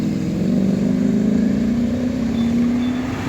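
Close by, a Ducati Streetfighter V4R motorcycle engine gives a loud, sustained drone whose pitch climbs slightly as it pulls past.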